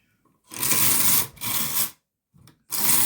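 A Meda garter knitting machine lever slides across in three broad, rasping sweeps, each about half a second to a second long, with a brief faint scrape in between, close and alone.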